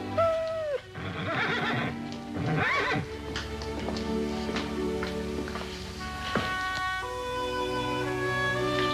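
A horse whinnies loudly near the start, followed by a shorter neigh and some hoof clops, with music playing underneath.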